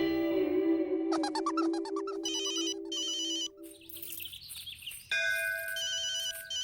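A telephone rings with a bright electronic ringtone in repeated chiming bursts, shifting pattern partway through, clear and close with no talking over it.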